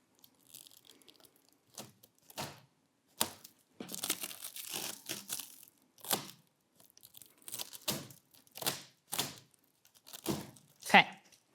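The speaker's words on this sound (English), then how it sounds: "cut away from the wood to get rid of that wrap" Plastic wrap is cut and torn off wooden arm chair parts, with repeated crinkling, ripping bursts close by, interspersed with talk.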